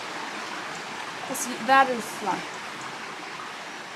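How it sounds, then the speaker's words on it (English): Water flows steadily in a deep river along a Camino de Santiago trail, a soft continuous rush in the background, while a voice speaks briefly over it midway. "That's literally a river."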